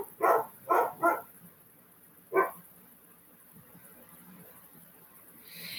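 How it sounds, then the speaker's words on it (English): A pet dog barks at home, three quick barks in a row and then one more after a pause, moderately loud at a short distance against a quiet room. "My dog's barking."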